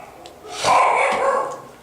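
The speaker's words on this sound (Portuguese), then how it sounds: "Não ligue para cachorro que está latindo." A dog gives one drawn-out bark, fairly loud and a little distant, during an indoor music theory lesson.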